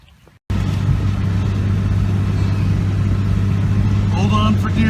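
A car's engine runs steadily at close range after a brief quieter moment, a constant low hum inside the cabin with a voice speaking briefly toward the end.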